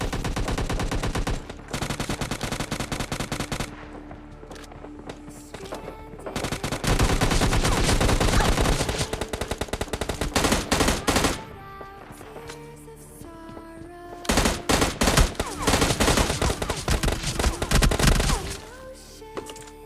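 Gunfire in the mobile shooter PUBG Mobile Lite rattles out in repeated loud bursts of rapid automatic shots, separated by brief quieter gaps.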